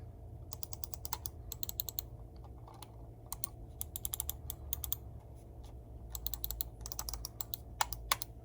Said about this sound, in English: As you can hear, the Rapoo is a little bit louder with its click.